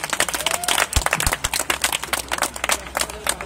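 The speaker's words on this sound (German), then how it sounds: "Das hat auch einen Applaus verdient." A small crowd claps at an outdoor peace vigil, a dense run of sharp hand claps close by, steady for several seconds with no talk.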